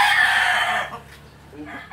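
A Hatch Gray rooster crows loudly and close, one strained call that fades out, followed by a quieter cluck-like sound.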